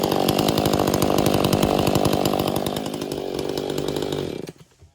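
A Husqvarna Rancher chainsaw with a muffler mod, not ported, runs loud and close with a rapid buzzing rasp, then the sound falls away abruptly near the end as the saw cuts off.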